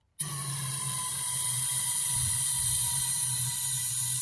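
A sudden, steady aerosol can of starter fluid sprays, hissing loudly and continuously, starting abruptly after a moment of silence, with a faint low rattle underneath.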